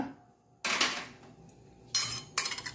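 A metal chakli (murukku) press being opened: a few sharp metallic clinks and scraping rattles in short bursts, close and fairly loud, with quiet pauses between.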